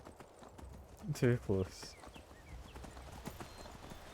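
Horse hooves clip-clopping in the video game Skyrim, with a few distinct hoof beats and a brief whinny-like burst, heard close under a man's speech.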